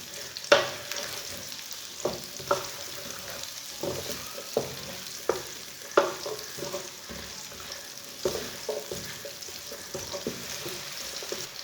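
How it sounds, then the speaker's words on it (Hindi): Raw green banana frying in a pan over medium heat, a soft steady sizzle broken by repeated scraping and stirring knocks at an uneven rhythm, close by with no voices. "इसे मीडियम आंच पर फ्राई करना।"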